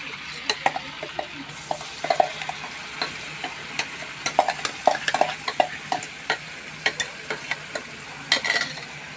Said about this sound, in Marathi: आता यामध्ये हा जो वाटलेला मसाला आहे तो आपण घालून परतून घेऊ